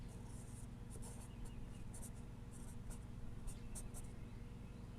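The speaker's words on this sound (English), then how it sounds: "I write on my paper towel" Pen writing on a paper towel, a quiet steady scratching with faint bursts of strokes, close and soft, with no talk.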